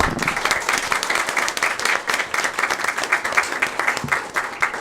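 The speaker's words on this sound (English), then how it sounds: "Please give them a big round of applause." Audience applause at a school board meeting, a full round of clapping from a roomful of people, continuous and close, sustained for several seconds.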